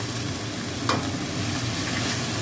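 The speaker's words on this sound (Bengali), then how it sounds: "আদা, রসুন, পেঁয়াজ, টমেটো বাটাটা দিয়ে দিলাম" Ginger, garlic, onion and tomato paste with cumin, coriander and chili powders frying in a pan, a continuous thick sizzle with a brief scrape of stirring, close and even, no speech.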